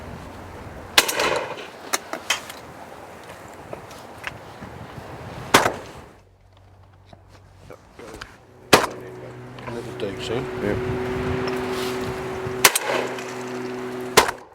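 A Browning Maxus shotgun fires during pigeon shooting in Essex: four sharp, loud reports spaced a few seconds apart, with quieter outdoor background and low humming sounds between the shots.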